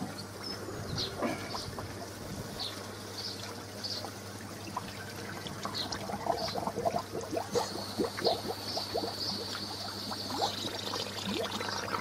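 Soft, continuous bubbling and trickling water from a DIY up-flow koi pond filter with an air bleeder, quiet and close, with small irregular splashes and gurgles over a low steady hum.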